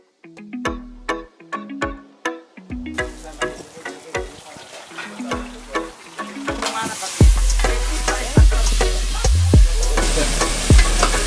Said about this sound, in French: c'est cuisiné comme ça sur le grill